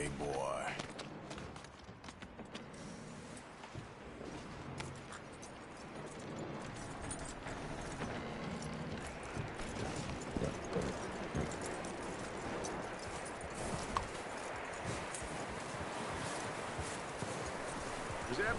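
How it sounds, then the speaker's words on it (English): Horse hooves clip-clop steadily on the ground in Red Dead Redemption 2, a continuous walking rhythm at moderate loudness under a bed of ambient game sound and voices. "That looks like a decent horse."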